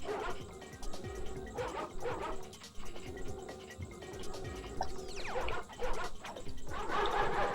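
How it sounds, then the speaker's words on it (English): Angry dogs bark and yip repeatedly in the Ratchet and Clank video game, their sharp calls layered over busy game music and effects throughout. "Why are these dogs so mad?"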